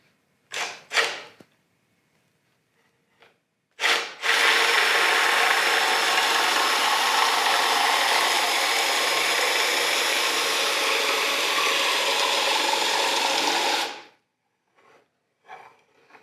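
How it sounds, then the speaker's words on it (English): A handheld dowel-maker cutter shaves a rotating piece of wood in one continuous, loud, rasping grind lasting about ten seconds, with a few short scraping knocks before it starts and soft handling noises after it stops. "So you get it started, and as I'm rotating, the cutter's going to cut it."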